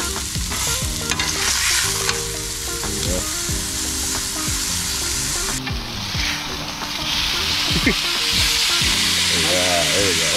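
A NY strip steak sears loudly in a hot pan, a strong continuous sizzle close by with scraping and clatter as it is flipped, and a little talk over it.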